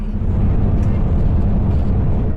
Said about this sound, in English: That acceleration that we're hearing